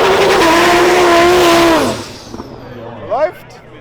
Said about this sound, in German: Audi RS3 gegen Lambo.